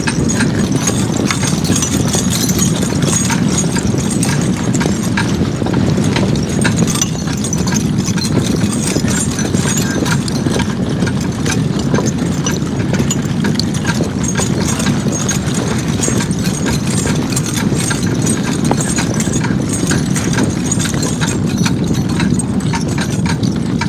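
Draft horses clip-clop steadily while pulling a sleigh along a snowy trail, a dense continuous rumble of hooves and runners held close and loud for the whole stretch.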